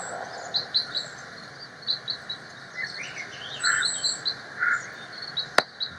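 Red Crossbill calls of type 10, recorded in Humboldt County, come as a series of short, sharp chip notes repeated at irregular intervals over a soft background of insect buzz.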